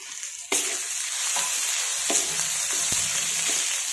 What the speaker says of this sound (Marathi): आता मी मंद गॅसवरती सर्व परतून घेत आहे।